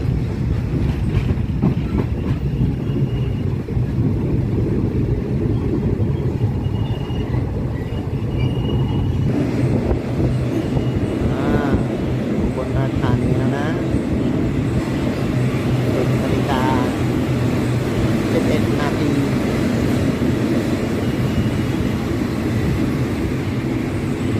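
A passenger train rolls along the railway, a continuous loud rumble of wheels and carriages with steady rattling and faint clickety-clack, sustained without break and heard close by from on board or beside the track.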